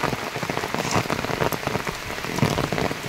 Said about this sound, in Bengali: কি বৃষ্টি হচ্ছে, তোমরা না দেখলে ভাবতেই পারবে না।